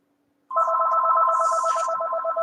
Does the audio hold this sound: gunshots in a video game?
no